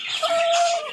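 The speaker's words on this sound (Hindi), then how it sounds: "ये मुर्गा भाई कौन सी नस्ल है जी?" A Java breed rooster gives a single drawn-out, tonal call with a faint rising tail, heard fairly close and alone without talk, amid other poultry and peafowl kept at a rural home with a vegetable and fruit garden.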